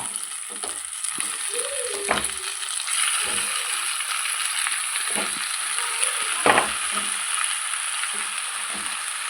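A tempering (oggarane) frying in a pan sizzles steadily and loudly, with scraping stirs and clinks of a utensil recurring every second or two. No one speaks.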